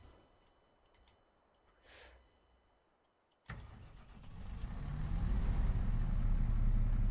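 A Massey tractor's diesel engine turns over and fires up in Farming Simulator 25, settling from a quiet cab into a steady, rising low rumble that grows louder and holds through to the end.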